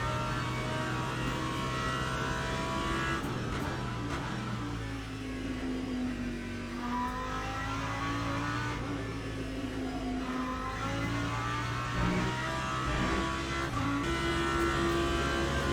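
GT3 race cars battling for position at Spa in the racing game Le Mans Ultimate, a steady engine drone with rising and falling revs from several cars close together, with no talk.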